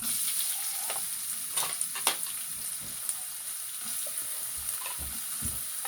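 Fennel seeds frying in a pan while being stirred for a Jaffna beef liver curry, with soft sizzling, faint scraping stirs and a few light clinks, close but fairly quiet, with no speech.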